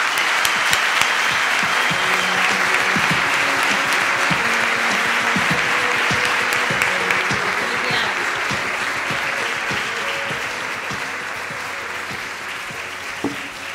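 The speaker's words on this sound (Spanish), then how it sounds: "Un fuerte aplauso" An audience at a hospital awards gala gives a long, sustained round of applause as a prize winner is honoured. The dense clapping holds at an even loudness throughout and fades slightly toward the end.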